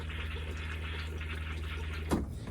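Water flows steadily into the bowl of a Forest River Forester RV toilet, released by a light press of the foot lever; a continuous close hiss of filling water with a brief thump near the end.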